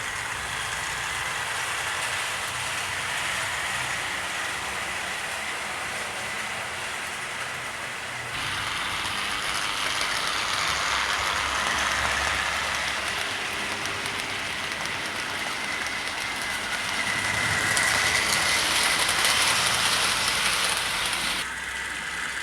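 Tri-ang/Hornby model locomotives, an L1 and an M7, running on track, giving a continuous close whirring hiss that shifts in pitch and intensity as the trains move, with no talking.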